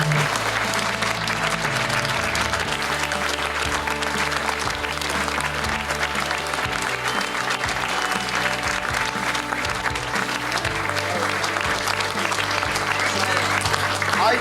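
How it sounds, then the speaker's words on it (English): A dinner audience at a formal President's Dinner applauds newly installed directors, with loud, sustained clapping from a full room that fills the whole stretch without pause. "please to stand up so that we can applaud them and welcome them"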